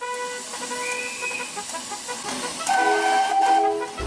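A train pulls away amid hissing steam and clanking rail noise, with tonal whistle-like squeals growing louder toward the end.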